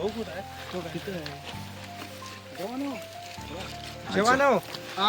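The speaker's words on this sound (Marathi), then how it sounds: "मधून चला, पाण्यातनं चला." People wade through cold river water at a riverside outing, soft sloshing underneath as voices talk and shout loudly and close throughout.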